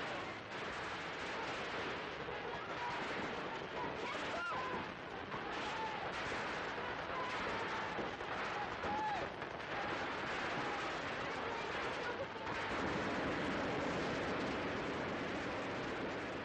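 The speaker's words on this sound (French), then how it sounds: "Il y a bien eu échange de coups de feu" Faint, distant gunfire crackles in scattered bursts over a noisy, muffled background, with some indistinct voices mixed in, during a crowded street parade in liberated Paris, 1944.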